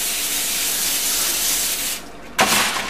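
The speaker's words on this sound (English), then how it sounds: "This is cooking spray so that it won't stick to the pan." Cooking spray hisses steadily from a can onto a pan for about two seconds, coating it before shrimp are cooked. A short, sharper burst of spray follows after a brief pause.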